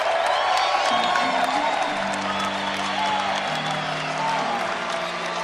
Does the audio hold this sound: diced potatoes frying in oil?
no